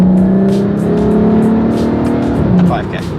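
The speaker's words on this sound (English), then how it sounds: "So this is a 3rd gear pull, and I'm gonna shift at 5K." VW Passat with an aftermarket exhaust revving hard through a third gear pull, a loud sustained engine drone climbing in pitch before a shift near the end, heard from inside the car.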